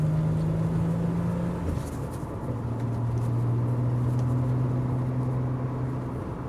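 A 1993 Nissan 300ZX twin turbo with rear active steering drives along, its engine a steady close drone inside the cabin that shifts pitch partway through, with faint rumble from the road beneath.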